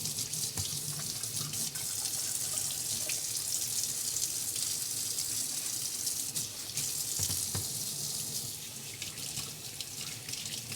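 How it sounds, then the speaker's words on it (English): A spatula is washed under a running kitchen tap, with a steady hiss of water flowing into the sink for about ten seconds and a few brief clinks and splashes, no talking. "I'm going to wash the spatula."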